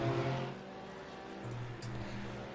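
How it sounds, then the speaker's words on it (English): Porsche GT3 race car in a sim racing game at Mount Panorama, engine tone holding steady and then shifting as it passes into turn one, moderately loud with brief high hiss bursts. "the Team Bushfink Racing Porsche, comes past into turn 1"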